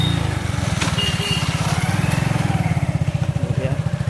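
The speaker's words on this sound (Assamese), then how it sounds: "বাইক চলি আছে বঢ়িয়া পিক আপ দিছে" A motorcycle being ridden, its engine throbbing loud and close in a fast, steady pulsing rhythm for the whole stretch, with wind rush over it.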